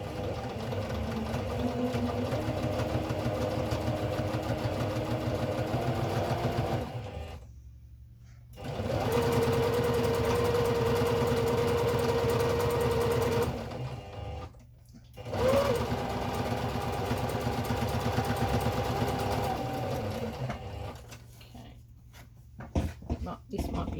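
A sewing machine stitches a quilt block, running in two long bursts with a brief stop between and a shorter run near the end, steady and close, with a voice talking over parts of it.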